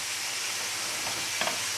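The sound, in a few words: bacon sizzling with water bubbling in pan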